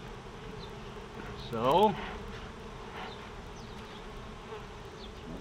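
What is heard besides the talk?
honeybees buzzing around an open backyard beehive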